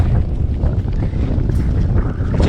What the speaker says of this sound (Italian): cercando di non pensare al vento che è devastante qua